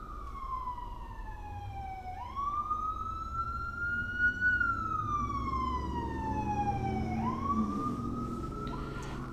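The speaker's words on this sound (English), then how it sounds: "Like right now, you hear the siren. If you can hear the siren," An emergency vehicle siren wails steadily, rising and falling in slow sweeps over low traffic rumble, somewhat distant and continuous throughout.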